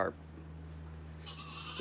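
Goats bleat inside a barn, a brief call at the start and another at the end over a steady low hum, heard fairly close.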